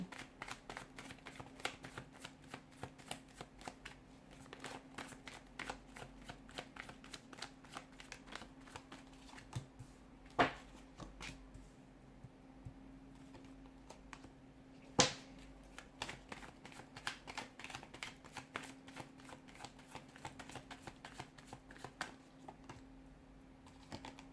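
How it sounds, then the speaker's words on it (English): Rapid, continuous riffling and soft clicks of playing cards being shuffled close by, with a couple of sharper taps standing out. "we'll give the cards a shuffle"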